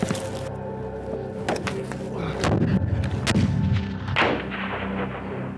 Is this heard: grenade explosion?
yes